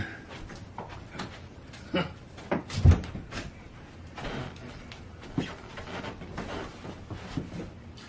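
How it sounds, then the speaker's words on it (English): A door is pushed shut indoors with a single solid thud, followed by faint shuffling and smaller knocks at a moderate distance, with quiet room noise around it. "I gotta go shut their door."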